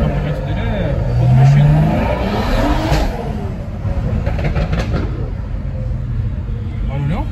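Modified car with a heavily altered exhaust accelerating at a street carnival, a loud engine rumble rising and falling over several seconds with crackle in the noise, while people talk close by over it.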